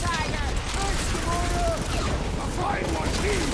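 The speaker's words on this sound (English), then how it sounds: "Rocket's guns are insane." Rapid gunfire from Rocket's weapons in Guardians of the Galaxy, a steady, dense barrage that runs the whole time alongside in-game voices and other battle noise.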